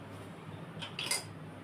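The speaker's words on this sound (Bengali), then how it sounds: "একটা স্ট্যান্ড দিয়ে দিচ্ছি এর উপর" A metal stand is set into a kadai of water for steaming paneer, giving a couple of brief, faint metallic clinks close by against a quiet background.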